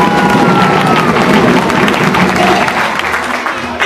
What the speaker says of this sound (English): another round of applause for Jamison Jammer